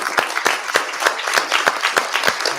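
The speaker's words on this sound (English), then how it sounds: "Round of applause for yourself." Clapping from an audience at an evening museum rave event, a fairly close and steady patter of individual claps with distinct sharp hits throughout.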